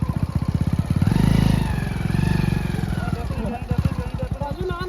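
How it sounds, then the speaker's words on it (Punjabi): A motorcycle engine idles and revs up nearby in a steady throbbing pulse as the motorcycle is loaded onto a boat, with some clatter and voices talking over it. "ਬੇੜੀ ਦੇ ਵਿੱਚ ਮੋਟਰਸਾਈਕਲ ਚੜਨ ਲੱਗੇ ਆ ਜੀ"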